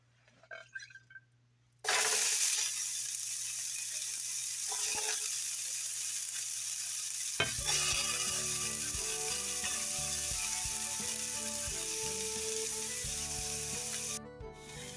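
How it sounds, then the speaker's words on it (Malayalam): Chopped onion hits hot oil in a pan and bursts into a loud, steady sizzle that holds for over ten seconds, after a few quiet handling knocks, with stirring scrapes and a faint clatter of utensils mixed in. "ഓയിൽ ചൂടായതിന് ശേഷം നമുക്ക് ഇതിലോട്ട് ചെറുതായി കട്ട് ചെയ്ത് വെച്ചിരിക്കുന്ന സവാള ചേർത്ത് കൊടുക്കാം"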